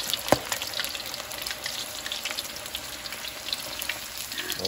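Okoy, crispy shrimp fritters, deep fry in hot oil. The sizzle is close and steady, with crackling pops and one sharp spatter near the start.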